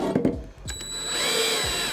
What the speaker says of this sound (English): I also like to set my drill to approximately 11.